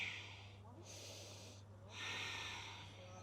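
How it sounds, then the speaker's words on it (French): Slow yoga breathing during a leg-flexibility session: a soft inhale and a longer, louder exhale, each a broad hiss lasting about a second, close to the microphone over a faint steady hum. "J'inspire et j'expire."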